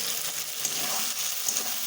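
Potatoes and tomatoes fry with spices in a pan, giving a steady, close hiss of sizzling with faint stirring underneath.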